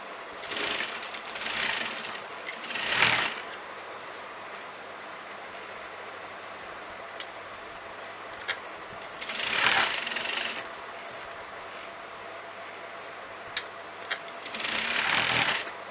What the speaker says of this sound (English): you're going to sew it at the exact corner of the fabric.